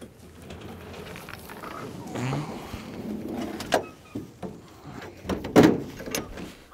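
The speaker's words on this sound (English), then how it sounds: "I guess I could probably close the back door of the trailer" The back door of a trailer is swung shut during a morning dry-field duck hunt: a few scattered knocks and rattles, then a sharp, solid thud near the end, close by, over quiet outdoor ambience.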